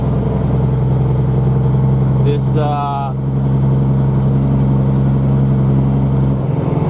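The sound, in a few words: loud truck engine driving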